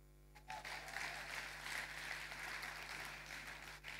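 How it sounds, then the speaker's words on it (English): Audience clapping at a church-style conference event, a sustained, moderately dense round of applause that starts abruptly after a brief quiet moment, with a low steady hum underneath, somewhat distant and even in level. "You guys are clapping like you're not grateful."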